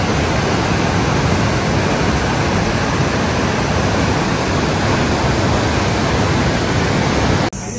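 Chamche waterfall on the road to Manang in the Nepal Himalaya roars loudly and continuously, a dense, even rush of falling water that fills the whole clip and cuts off abruptly near the end.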